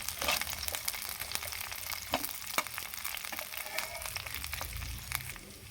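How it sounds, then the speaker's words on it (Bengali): Chopped tomato sizzles and fries in a pan of already browned onion and panch phoron spices for a green jackfruit curry, a steady close crackle with brief stirring scrapes and no voices. "এবার এর মধ্যে আমি টমেটো কুচি দিই। টমেটোটা ভালোভাবে ভেজে নেব।"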